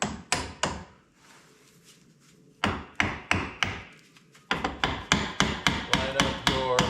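Hammer tapping on a 2016 Polaris Razor wheel bearing and A-arm assembly, sharp metallic blows in quick bursts: a few strikes, a pause, another run, then a steady string of close, loud taps.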